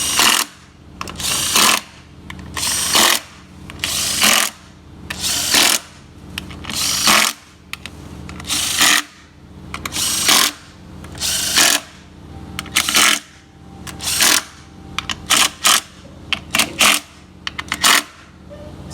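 Ratchet clicking as valve cover bolts are tightened on an Acura RDX, a steady rhythm of short bursts of fast clicks repeated about every second, close and clear with no talk.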